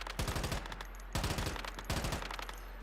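Bursts of automatic gunfire in a video game, three rapid volleys of sharp shots separated by short pauses, fairly close and loud with no talking.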